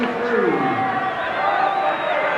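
A 25,000-strong crowd at a 1997 Super 12 rugby semi-final at Bruce Stadium, Canberra, sustains a loud roar with whoops and cheers, while a commentator's voice runs over the top.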